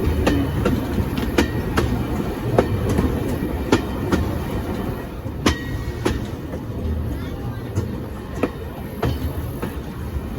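A heritage train on the Aspen Crossing Railway rolls along with steady clickety-clack of wheels over rail joints, regular sharp clicks over a continuous rumble, heard from on board without talk.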